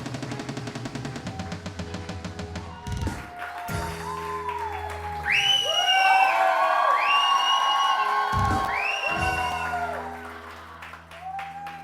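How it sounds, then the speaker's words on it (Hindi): On a Pakistani TV morning show studio set, applause and cheering with rising whoops swell over a stretch of music, peaking loudest in the middle before fading out near the end. "शानी के लिए बहुत सारी तालियां, बहुत सारी तालियां"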